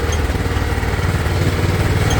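A Kawasaki Mule off-road vehicle with a GX390 clone engine, stock carburetor and 40 series clutch runs on an off-road park trail. Its single-cylinder engine makes a loud, close, steady chugging rumble throughout.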